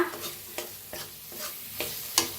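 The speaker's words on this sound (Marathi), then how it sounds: "बघा मस्त भाजायला आला आपला कांदा" Onion frying in a pan with ground masala paste, stirred with regular scraping strokes roughly every half second over a soft sizzle.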